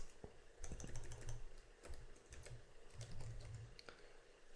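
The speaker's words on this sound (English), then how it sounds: "Click on this and type in," Someone types on a computer keyboard while naming a web page, producing a quick run of close, crisp key clicks in short uneven bursts.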